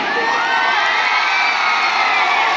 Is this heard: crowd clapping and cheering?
yes